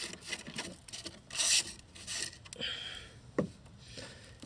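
A screwdriver scrapes and rasps against rusty van bodywork in close, uneven strokes, gritty bursts of scratching alternating with short pauses.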